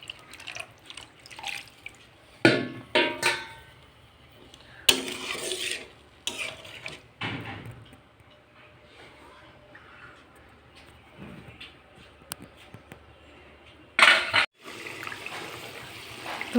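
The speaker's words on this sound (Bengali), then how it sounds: "আর একটু জল অ্যাড করবো।" Water is poured into a simmering home-style curry in a pot, with scattered splashes, drips and stirring clatter at close range and sharper bursts near the start, middle and end.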